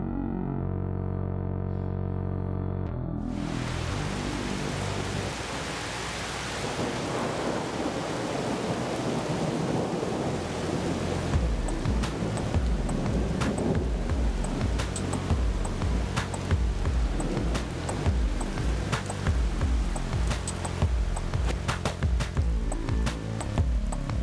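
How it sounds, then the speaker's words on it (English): A thunderstorm rolls into Elm Creek Park Reserve in Maple Grove, Minnesota: heavy rain hisses steadily while deep thunder rumbles underneath, starting after a brief low musical tone and holding loud and continuous throughout. "These pictures show the storm as it rolled into Elm Creek Park Reserve in Maple Grove and then into Brooklyn Park."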